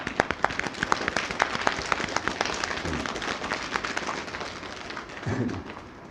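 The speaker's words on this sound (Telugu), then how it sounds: "ఒకసారి చప్పట్లు కొట్టేద్దామా కాళ్ళ మీద?" A group of children slap their hands on their legs together, a dense run of sharp, rapid claps that fill the room, fairly loud and close, with a few low voices briefly underneath.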